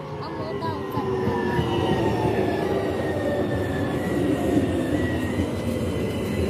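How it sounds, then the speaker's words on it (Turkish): A tram pulls in with a steady rumble and thin, high wheel squeals along the rails. Voices talk in the background throughout. "Tramvay da geldi."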